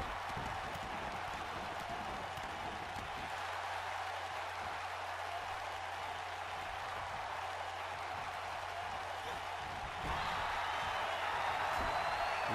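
Crowd noise from the WWE 2K19 wrestling video game, a soft, even wash of cheering and clapping that swells slightly louder near the end, with no voices over it.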